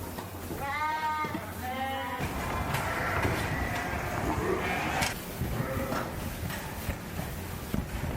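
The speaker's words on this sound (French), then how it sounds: "on a gardé que 15 mères et on a mis des brebis laitières" Dairy ewes bleating on a farm in Aveyron, France, several harmonic calls overlapping near and loud in the first two seconds, then fainter bleats amid a steady barnyard murmur.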